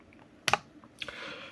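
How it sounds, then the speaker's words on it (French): Cheap SKYLION H300 membrane keyboard with a QWERTY layout being typed on: a quick cluster of soft clacks, then a few fainter key presses, close and alone. "Bon, je tape un peu à l'arrache, hein."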